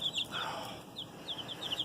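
Backyard coop chickens cluck and chirp softly at middle distance, several short repeated calls scattered over a low background hush, with no talking.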